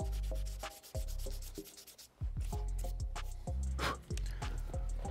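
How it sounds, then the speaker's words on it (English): Fine 800 and 1000 grit sandpaper rubs across the suede of an Air Jordan 4 sneaker in quick rhythmic back-and-forth strokes, close and scratchy with brief pauses between passes. "For this process, I'm gonna be using 800 grit sandpaper and 1000."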